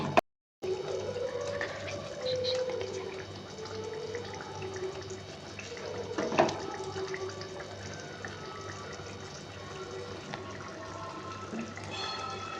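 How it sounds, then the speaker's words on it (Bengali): Curry gravy with spices simmering in a pan, a faint steady bubbling with a low hum beneath and occasional soft clinks, quiet and close. "ঝোলটা কিন্তু ফুটতে শুরু করেছে, আর একটু ফুটবে"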